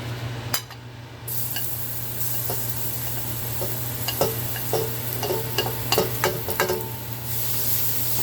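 Garlic sizzles in hot olive oil in a pan, a steady close frying hiss with scattered crackles and a few utensil clicks, no voices.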